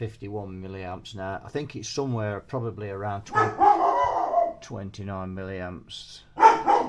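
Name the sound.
dog barking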